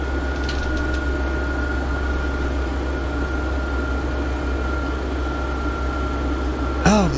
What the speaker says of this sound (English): Listen to them engines purr.